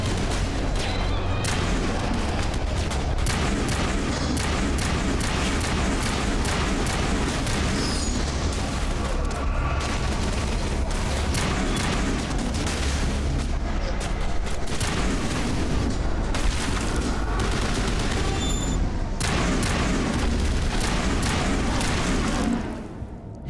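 Gunfire in the video game Mass Effect Legendary Edition, repeated shots and booming impacts in uneven bursts over a dense, continuous backdrop of battle noise.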